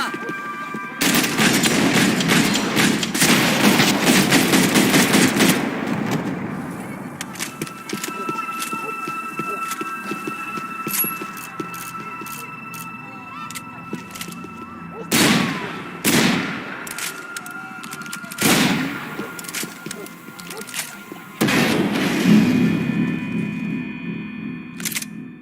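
Gunfire in the video game Max Payne 3, a loud burst of rapid shots up front followed by several sharp, separate bangs spaced out over quieter ambient game sound.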